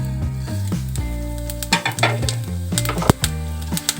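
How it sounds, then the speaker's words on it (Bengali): Cumin powder and black cumin hit hot oil with fried chilies in a pan for mango chutney, raising a loud, steady sizzle close up, with scattered clinks and stirring scrapes throughout. "তো আমি যে এক চা চামচ জিরের গুঁড়ো আর হচ্ছে এক চা চামচ কালো জিরা নিয়েছিলাম সেগুলো দিয়ে দিচ্ছি"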